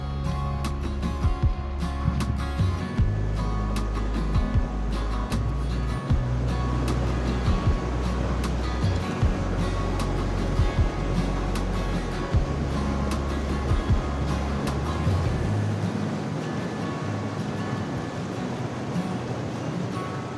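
Pleasant Creek in Capitol Reef pours over cascades and pools in a constant broad rush of water, close and loud, with a low rumble underneath and occasional knocks, and no talk.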